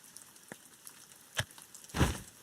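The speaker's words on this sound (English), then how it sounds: "Thankfully, it isn't raining all too hard yet." Light rain falling on stone bricks in the Shadowverse video game, heard as faint, sparse droplet taps and soft patters over a quiet background, with a slightly heavier splash near the end.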